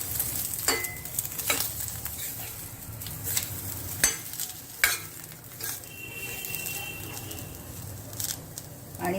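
Brinjal (eggplant) pieces sizzle in a pan for an Indian eggplant curry, with repeated sharp scraping clicks of a spoon stirring against the metal every second or so over a steady frying hiss.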